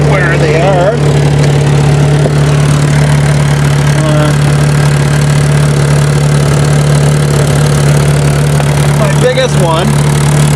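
A car engine fitted with a newly replaced catalytic converter runs at a steady idle, close and loud, with a constant low drone and hiss from exhaust leaks while someone speaks briefly over it.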